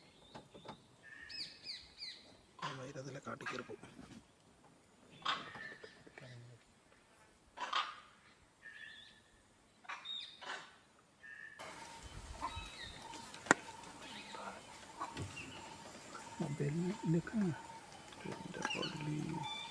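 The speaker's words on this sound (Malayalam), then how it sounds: "ലെപ്പേഡിൻ്റെ മൂവ്മെൻ്റ് ഉണ്ടായപ്പോഴത്തേന് എത്രമാത്രം കിളികളും കുരങ്ങും ഒക്കെ അല്ലേ അലാം കൊടുക്കുന്നത്." Birds and monkeys raise alarm calls at a leopard in Pench Tiger Reserve, sharp chirps and calls near and far over a forest background, with people talking quietly in between.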